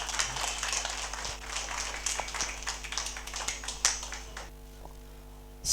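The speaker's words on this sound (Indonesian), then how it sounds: "Tepuk tangan buat Bapak Jarwanto" An audience at a Sapta Darma youth spiritual gathering in Central Java gives a speaker a round of applause, a soft, distant scatter of clapping that fades out toward the end.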